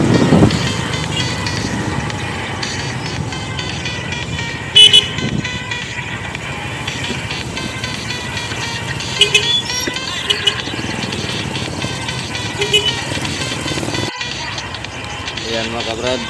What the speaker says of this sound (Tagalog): Sa ngayon masyadong traffic dito ngayon sa Surala.